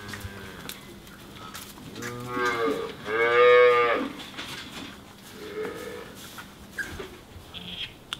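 Dairy cattle mooing, with a couple of long, loud, low moos in the middle and quieter lowing before and after over a steady background.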